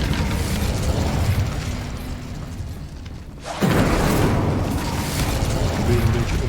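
An Incendio fire spell cast in the video game Hogwarts Legacy: a sudden loud fiery burst that cuts in after a quieter stretch and then keeps roaring and crackling at full strength.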